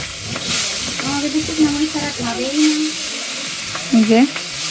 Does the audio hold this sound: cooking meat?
yes